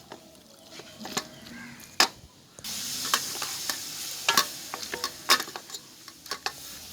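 Anchovy fish roast frying in a pan as it is stirred, a soft steady sizzle broken by sharp scrapes and clinks of the spoon against the pan, close and moderately quiet.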